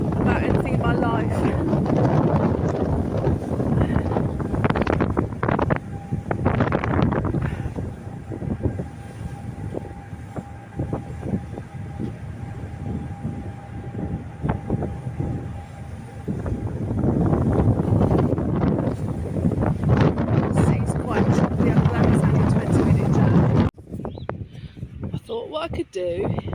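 Wind buffets the microphone aboard a ferry, with a steady low rumble of the vessel underneath and a faint tonal hum in the middle stretch; the noise stays constant and close, dropping suddenly near the end.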